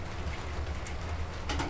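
Rain falls in Chicago as a steady, dense hiss with no breaks, with a couple of brief sharper spatters near the end.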